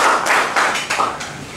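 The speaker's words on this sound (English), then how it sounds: "please give a warm round of applause for Adam Cronan" Short burst of audience applause at a men's gathering, a few loud, rhythmic claps close by that fade within a couple of seconds.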